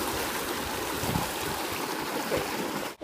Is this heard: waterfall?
yes